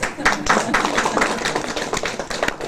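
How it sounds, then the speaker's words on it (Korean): Clapping at a Korean first birthday party (doljanchi) follows a family introduction, a small group's uneven, fairly close hand claps that patter on for a few seconds. "박수."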